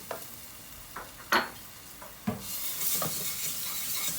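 Tomato paste fries in a pot while being stirred, with a few close spoon scrapes and knocks on the pot, then a rising, steady sizzle.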